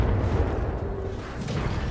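An explosion in BattleTech combat, a low rumbling blast with a rolling crackling tail, dense and sustained rather than sharp.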